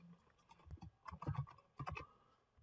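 Typing on a computer keyboard, a steady run of quick clicking keystrokes in uneven bursts, close and fairly soft, with no voices.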